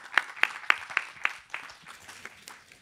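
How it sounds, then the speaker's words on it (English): Audience applause for a speaker at an OECD forum session, a short burst of hand claps, sharp and close at first, then thinning and fading over a few seconds. "Give him a round of applause."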